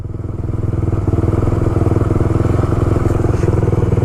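A dirt bike engine running close and loud with a rapid, throbbing pulse as it rides through mud, with a few clatters near the end.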